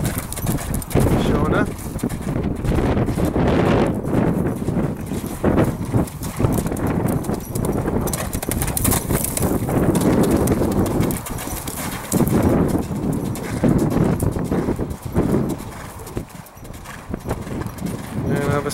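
Hooves of a cob mare clip-clop steadily in a rhythmic gait as she is ridden outdoors, with birds faintly in the background and people talking over the hoofbeats.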